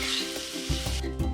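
Bacon and onion sizzle steadily in a frying pan while being stirred, a loud, close, continuous crackling hiss with a few scraping stir noises and no talking.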